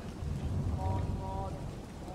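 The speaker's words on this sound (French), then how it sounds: "la pluie qui tombe, on est dans Blade Runner." Steady rain falls in the cyberpunk VR game Blade Runner 9732, a dense continuous patter with low rumble beneath and a faint tonal hum drifting through.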